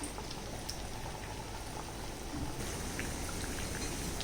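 Steady bubbling, crackling hiss of jackfruit seed vadas deep frying in oil, continuous throughout with a slight rise in intensity partway through.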